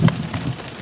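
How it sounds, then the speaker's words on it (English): Rain falls outside as a soft, continuous patter of drops, steady and moderately close, with no voices over it. "It's still raining, as y'all can hear."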